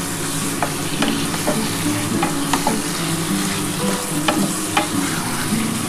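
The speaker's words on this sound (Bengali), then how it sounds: "খুব ভালো করে কিন্তু মশলাটা কষিয়ে নিতে হবে।" Spice masala for a mutton curry frying and being stirred in a pan, a steady loud sizzle with repeated scraping strokes of the spoon, no voices.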